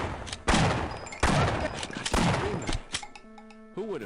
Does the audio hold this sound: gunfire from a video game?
yes